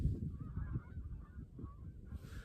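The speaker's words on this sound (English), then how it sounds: "Oh, they're geese. I can hear them." Geese on the water honk in the distance, a loose chorus of calls from a large flock over a low rumbling background, fairly faint and continuous.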